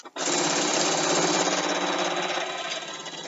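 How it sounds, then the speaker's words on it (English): A sewing machine stitching binding and running over pins, starting abruptly and then buzzing in a fast, even mechanical chatter that fades slightly toward the end. "I have a horrible habit that I sew over top of my pins"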